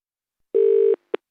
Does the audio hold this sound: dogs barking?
no